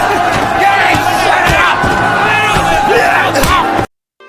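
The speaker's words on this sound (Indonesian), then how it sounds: "sehingga kerusuhan oleh penonton Korea pun terjadi" A large crowd of Korean spectators riots in a film scene, many voices shouting and bellowing together in a loud, dense roar that cuts off abruptly near the end.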